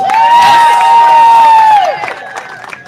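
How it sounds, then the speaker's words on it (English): A crowd at an ocean rowing race finish cheers and whoops loudly, with a long high shrill whistle or shout rising over the noise and scattered clapping, then the noise drops and thins out. "give a big applause and make some noise"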